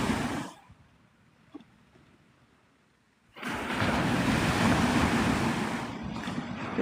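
Ocean waves on Navarre Beach, Florida, at sunrise: a roar of surf and wind starts, drops to a quiet lull for a few seconds, then surges back loud and steady to the end.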